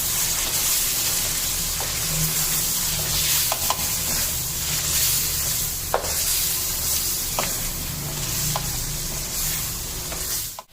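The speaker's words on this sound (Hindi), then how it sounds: "अब ये टमाटर का पेस्ट डाल देंगे, ठीक है। बस अब इसकी भुनाई कर लेंगे" Tomato paste and spices frying over high heat in a kadai for chicken karahi, a steady loud sizzle with a few sharp scrapes and clicks of stirring, no voices.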